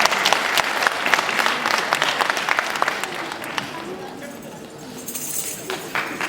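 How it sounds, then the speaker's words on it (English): A crowd at a community Eid celebration applauds after a dance performance, brisk dense clapping that gradually thins and fades, with faint voices underneath. "Give them another round of applause"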